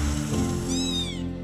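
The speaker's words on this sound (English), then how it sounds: "These are going to be the most loving kittens because I'm their mom now." A cat meows once with a rising then falling pitch, close and clear over a steady background hum, in a trailer about rescued kittens.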